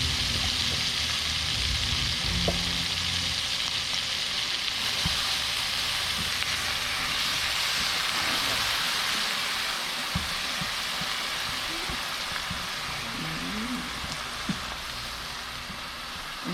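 Onions, peppers, garlic, fresh parsley and basil sizzle steadily in a pan for homemade Alfredo sauce, a constant crackling hiss with occasional soft clinks of a utensil.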